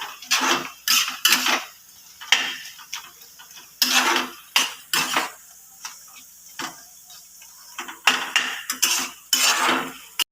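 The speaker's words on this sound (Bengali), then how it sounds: "মাছের মাথাগুলো আমি একদম এখানে ম্যাশ করে দিচ্ছি" A metal spoon scrapes and clinks against a cooking pan as fish heads are mashed for a Bengali pui shak chhechra, in irregular bursts of sharp taps close by with no talk.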